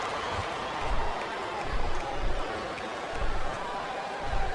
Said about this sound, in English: the crowd has come alive tonight with a chant directed at the superstars in the ring